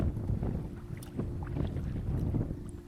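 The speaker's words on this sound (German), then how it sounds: "es ist irgendwie ziemlich windig geworden." Strong wind over a rough lake in the Swedish wilderness buffets the microphone from a kayak, a continuous low roaring rumble with gusty surges throughout.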